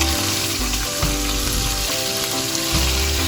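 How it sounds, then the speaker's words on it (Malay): Oil sizzles and crackles steadily as chicken pieces fry in a pan, a dense, continuous hiss up close with no talking. "Goreng ayam sehingga setengah masak."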